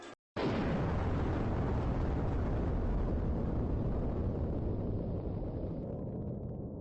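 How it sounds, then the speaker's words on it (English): A bomb detonates in the video game Road of the Dead: one loud, sudden blast that hits at once, then a long, heavy rumble that fades slowly over several seconds. "Detonation confirmed."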